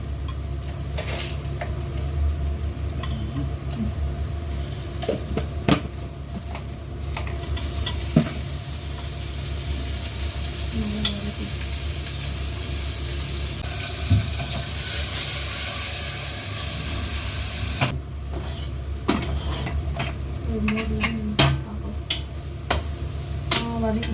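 Ingredients sautéing in a home kitchen pan, with steady sizzling and hiss throughout and occasional stirring scrapes and clinks of a utensil against the pan.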